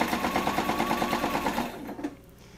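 A sewing machine stitches a fabric microwave bowl cozy in a rapid, even run of needle strokes that slows and stops near the end, close and clear with no talk over it.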